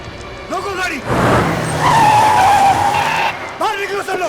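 Car brakes hard with a loud, sustained tire skid lasting a couple of seconds in a tense movie scene, with voices shouting before and after the screech.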